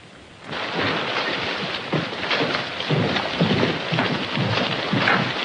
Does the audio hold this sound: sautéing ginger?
no